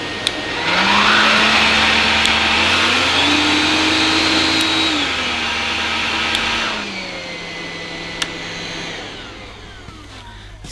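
A Bosch BBH6POWER cordless vacuum whirs loudly, its pitch stepping up twice through medium and high settings as the roller engages, then dropping back down before switching off, with a few small clicks.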